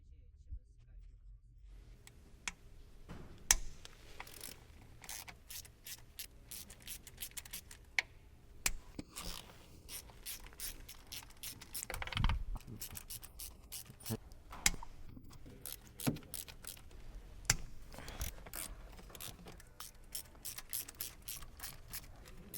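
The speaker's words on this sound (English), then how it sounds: "Use an 8mm deep socket with the extension to remove the valve cover bolts." A ratchet on an 8mm deep socket with an extension backs out valve cover bolts on a 2012-2017 Jeep Wrangler, sounding as runs of fast close clicks with pauses between them, some clacks of metal, and a voice talking faintly at times.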